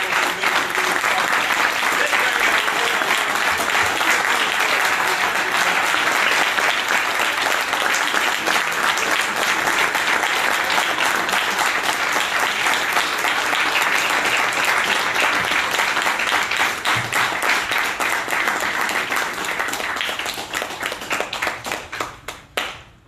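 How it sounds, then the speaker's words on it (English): An audience gives a long, enthusiastic round of applause at a public talk, dense, even clapping that holds steady for about twenty seconds before thinning into a few scattered claps and stopping. "wonderful round of applause to let him know we love him"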